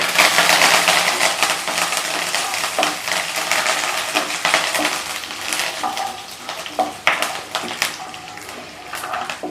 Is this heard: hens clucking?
no